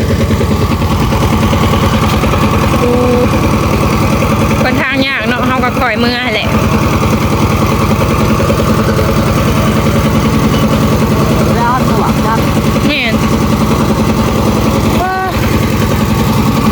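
Farm tractor engine idling with a steady, low mechanical hum throughout, partly under people talking nearby.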